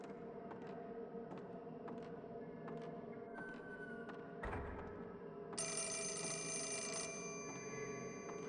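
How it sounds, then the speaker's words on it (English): A telephone rings in the horror video game Fatal Frame: Mask of the Lunar Eclipse, a faint ringing tone emerging late over quiet eerie ambience and scattered clicks. "Okay, I hear the phone."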